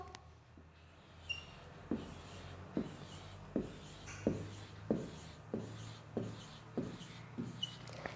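A pen or chalk draws ten circles one after another on a board, each stroke a short scratchy rub in a steady rhythm, close and fairly quiet.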